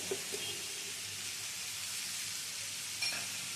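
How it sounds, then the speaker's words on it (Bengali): A spice paste with salt and turmeric fries in a little oil in a pan, making a faint, even sizzle and hiss with a couple of soft stirring knocks. No talking is heard. "এবারে মশলাটা ভালো করে কষিয়ে নেব"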